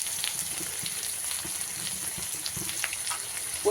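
Ginger and garlic paste with turmeric sautés in a pan for a fish curry, a soft, continuous sizzle with faint stirring scrapes, close and fairly quiet, with no one talking.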